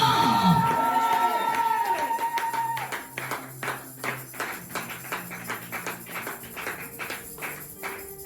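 A church congregation cheering and acclaiming, with a burst of voices and loud shouts at first, then rhythmic clapping and tapping repeating steadily in a fairly close, reverberant room.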